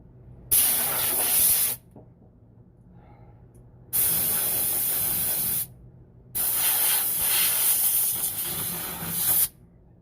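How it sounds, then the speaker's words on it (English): Compressed air blasting from an air hose in a garage, in three loud sustained hissing bursts separated by short quiet gaps, close by. "you have an air hose to blow yourself off"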